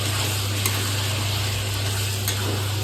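Ground cumin added to a pot of cooking chicken curry, giving a steady, loud, even sizzle that fills the whole moment with no talking.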